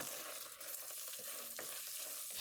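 Bacon sizzling in a pan on the stovetop, a close, continuous crackling hiss with a few light stirring scrapes and no talk.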